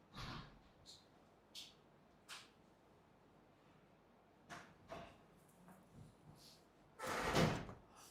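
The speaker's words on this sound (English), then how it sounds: "Be closing the doors." Several doors closing one after another, each a short, faint knock or thud spread across a quiet room, ending in a louder, longer slam or rattle near the end.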